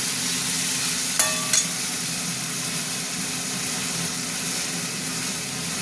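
Sliced tomatoes going into a pan of frying onions for chicken curry, a steady loud sizzle with a couple of brief clinks near the start, no talking.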